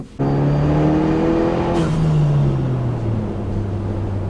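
A Ford Bronco's engine revs up with a loud, throaty exhaust growl, the pitch climbing and then dropping as the vehicle shifts and keeps driving.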